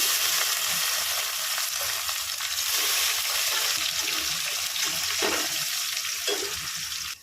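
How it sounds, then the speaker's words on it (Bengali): Chopped onion frying in oil with bay leaves, dried chilies, whole garam masala, cinnamon, cloves and cumin seeds: a dense, steady, loud hiss of sizzling throughout, with faint stirring knocks near the end. "পেঁয়াজটা ভাজা হয়ে গেছে।"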